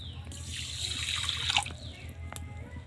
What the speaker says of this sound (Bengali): শিরা বানানোর জন্য আমি এক বাটি চিনি নিয়ে নিয়েছি এবার দিয়ে দেবো হাফ বাটি জল